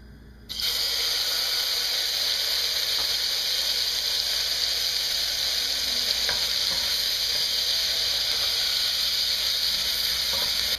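Garlic and onions sautéing in hot olive oil, a loud continuous close sizzle that starts abruptly and holds steady, with a few faint stirring clicks and no talking.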